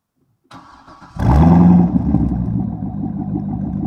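A loud Chevrolet Corvette C6 6.0 V8 with mufflers removed cranks and fires up with a sudden roar, then settles into a deep, rumbling, unmuffled idle that stays close and powerful.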